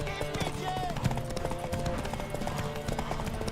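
A horse's hooves clip-clop steadily at a quick pace in The Witcher 3 video game, heard as a rhythmic patter mixed with game sounds and someone talking over it.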